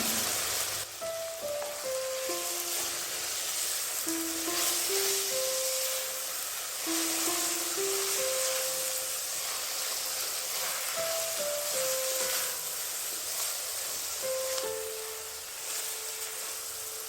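Onion sizzles steadily in a hot pan with chopped chillies and tomatoes, a constant soft crackling hiss throughout while faint melodic tones play in the background.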